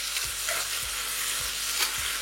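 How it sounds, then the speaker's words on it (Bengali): Thinly sliced onions sizzling over a high flame while being stirred for mutton curry, a steady loud hiss with periodic soft scraping strokes of the spatula, no talking. "পেঁয়াজটাকে হাই ফ্লেমে ভাজতে আপনাদের মোটামুটি সময় লেগে যাবে 10 থেকে 12 মিনিট।"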